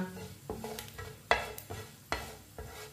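Whole cumin and coriander seeds dry roasting in a pan, with a faint sizzle under sharp scraping and clinking stirs that repeat about every half second.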